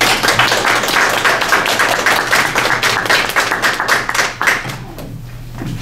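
Loud, close applause from a lecture audience, a dense wash of clapping with distinct hand strikes that thins out toward the end over a low background hum.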